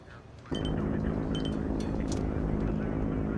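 A transport plane's engines roar loudly and steadily at an air base, cutting in abruptly after a quieter moment, with faint metallic clinks on top.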